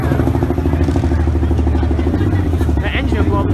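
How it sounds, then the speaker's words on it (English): A demolition derby car's engine strains and revs continuously at a county fair youth heat, loud and close, with a rough low drone and clattering under crowd noise and voices talking throughout. "They're trying to rev it up,"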